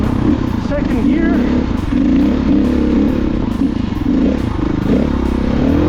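KTM 500 EXC dirt bike engine labouring on a steep climb, a loud, close, continuous low rumble with uneven stuttering pulses throughout.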